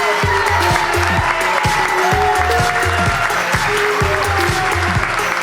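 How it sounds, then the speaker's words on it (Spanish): Loud, sustained applause and some cheering from a live podcast audience in a hall, filling the space while music with a regular rhythmic beat plays underneath. "por favor, un aplauso enorme"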